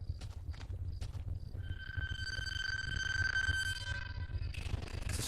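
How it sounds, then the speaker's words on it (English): An eerie, strange gate sound in a horror adventure game, with a sustained whistling, sonar-like tone that rises over low rumbling, clip-clopping thuds and rattles, faint and alone. "It's a strange gate sound."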